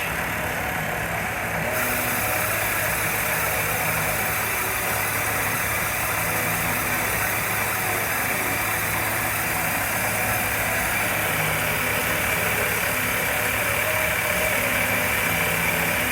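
A CNC mill cuts a saddle dry, without coolant, taking a light pass: a steady, loud mechanical drone with a constant high whine that runs without a break, close by and alone.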